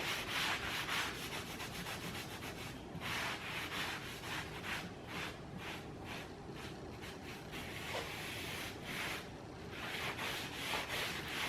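A pad works gray gel stain into a wooden piece with soft, close rhythmic rubbing swipes, brief pauses between strokes, fairly quiet and alone.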